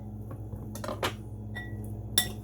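Tabbouleh is stirred in a bowl with a few soft scrapes and light clinks of a utensil against the dish, close and quiet over a low hum.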